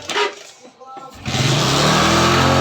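A Hero Passion Pro i3S motorcycle with a half-engine fitting starts up after a brief cranking burst, then settles into a loud, steady idle close by.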